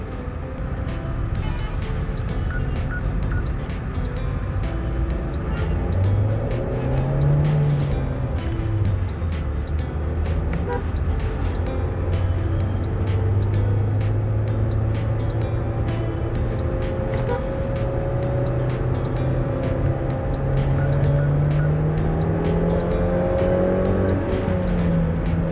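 A petrol manual Mahindra XUV 700 AX7 accelerates through its gears from inside the cabin, the engine note climbing steadily, dropping at each shift, then rising again, loud and continuous with no talking.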